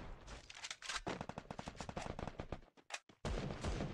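Rapid gunfire in the video game Free Fire, with dense bursts of automatic shots crackling in quick succession, a brief gap near the end, then more shots, loud and close.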